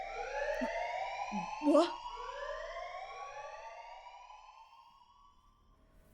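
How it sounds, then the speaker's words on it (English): A loud, warbling alarm in a video game sweeps up and down in repeated rising wails, fading gradually toward the end, while a voice briefly exclaims over it. "A loud alarm abruptly brings me back to reality from my dream."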